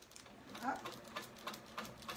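A quilting sewing machine stitches a small curly antenna shape on a table runner and back tacks it in place, giving short runs of quick rhythmic stitching in faint bursts while someone talks.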